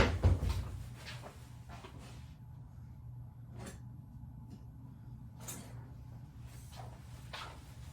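A lid is set back onto a bowl in a home kitchen, giving one short clatter at the start before quiet room tone.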